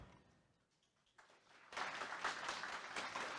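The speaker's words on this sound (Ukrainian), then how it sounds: "Оплески." Audience applause breaking out after a presentation on A2A instant payments for retailers, starting faint and scattered then swelling into fuller clapping from a modest crowd.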